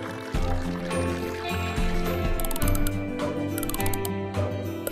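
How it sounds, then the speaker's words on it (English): A blender whirs as it mixes a smoothie in the Strawberry Shortcake Sweet Shop video game, a steady mechanical churn running for several seconds beneath bright, busy game music. "Keep blending until the mixture is nice and smooth."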